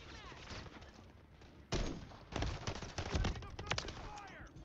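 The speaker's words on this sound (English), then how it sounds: "It's a sniper, my guy." Gunfire in Call of Duty Modern Warfare III, with sudden loud shots and bursts over a busy game background, sharp blasts at several points, close and layered with other combat noise.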